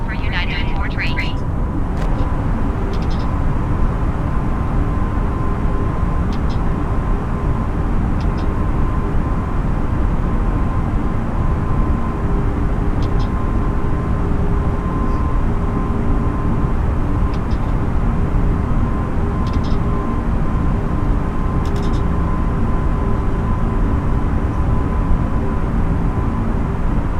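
An airliner takes off from KSFO in snowy weather in Microsoft Flight Simulator, with a steady, loud, continuous jet engine roar throughout and occasional brief cockpit tones over it.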